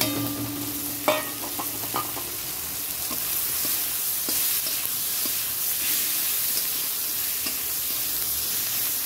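Chopped onion sizzles and fries in a little oil in a pan while being stirred, a steady close hiss with scattered soft clicks and scraping taps, and no talking.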